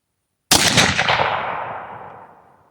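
A single sharp rifle shot from a .270 Winchester loaded with cast bullets cracks loudly after a moment of silence, then its echo rolls away and fades over about two seconds.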